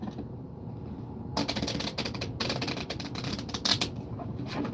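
Tarot cards are shuffled close up, making a dense, steady riffling and rustling for several seconds, with a few sharper snaps and no talking.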